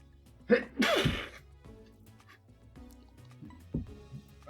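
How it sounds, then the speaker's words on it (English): A single sharp sneeze bursts out nearby during a casual gaming session, followed by some faint sniffing and small throat noises in a quiet room. "I need somebody edit out that sneeze"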